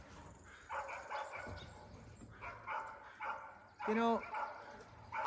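Dogs bark repeatedly outdoors at moderate distance, a series of sharp barks and yips in irregular bursts, while someone speaks briefly over them.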